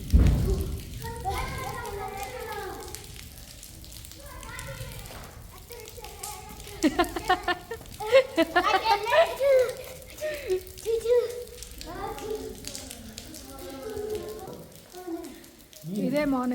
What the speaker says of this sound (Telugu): వర్షం దారుణంగా పడుతుంది